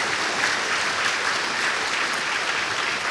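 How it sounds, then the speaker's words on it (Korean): A church congregation claps during a Korean worship service, a dense, steady applause that fills the whole stretch at an even loudness without letting up. "네, 한번 박수 한번 해주세요."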